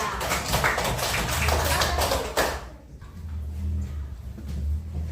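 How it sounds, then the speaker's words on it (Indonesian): A classroom of students clapping for a group that just presented, a burst of brisk, close hand claps for a couple of seconds that then drops away to quiet room murmur. "kasih tepuk tangan sekali lagi untuk kelompok 3"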